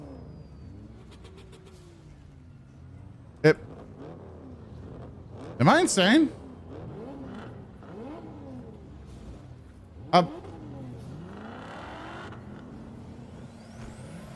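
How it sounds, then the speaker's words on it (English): Car engines rev and whine in rising and falling sweeps at a distance, while a person talks nearby with a few sharp clicks. "I'm hallucinating car engine noises."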